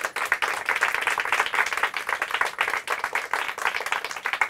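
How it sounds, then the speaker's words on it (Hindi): Audience applause welcoming a visiting higher secondary school team at a quiz event, dense steady clapping from a sizable crowd that holds evenly throughout. "ज़ोरदार तालियां हो जाए इनके लिए।"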